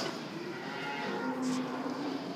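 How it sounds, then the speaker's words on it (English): Angus heifers on a farm give a single long, low moo under a steady outdoor murmur, moderately close and alone without talk. "They're really good cows when they grow up."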